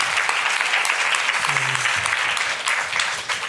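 A conference crowd applauds after a panel at a food forum's kitchen stage, a sustained wash of clapping with a brief voice or whoop rising partway through, then steady to the end.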